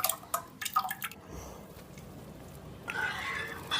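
Thin rava dosa batter pours and drips with a watery, splashing sound, moving in bursts of drips at first and then a steadier pour, heard close up with no talk.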